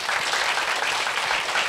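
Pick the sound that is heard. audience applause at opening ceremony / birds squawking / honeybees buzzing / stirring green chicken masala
audience applause at opening ceremony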